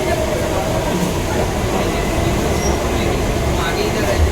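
Loud, steady rumble of a Kolkata Metro train running, with rattling wheels and a dense roar throughout.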